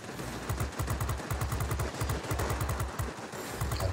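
Aircraft guns fire at an enemy plane in World of Warplanes, loud rapid machine-gun bursts rattling in repeated rhythmic volleys under steady engine drone.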